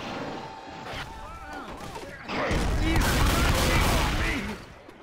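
Dense, sustained gunfire from the Left 4 Dead 2 video game, a steady rattle that swells louder midway through and stays heavy before easing off, with game voices mixed underneath.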